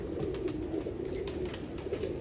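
A cross-bred pigeon coos close by in a steady, continuous low warble that runs without pause.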